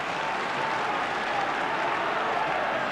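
A 50,000-strong crowd at Old Trafford for a St Helens versus Australia rugby league match makes a dense, continuous roar of cheering and applause, loud and steady throughout.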